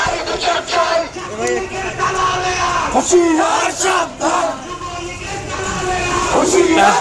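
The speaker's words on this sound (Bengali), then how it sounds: "ছাত্ররা আন্দোলন করছে এবং স্লোগান করছে" A crowd of protesting students chants slogans in rhythmic unison outside a police station in Dinajpur, loud and close, with yells and crowd noise under the repeated calls.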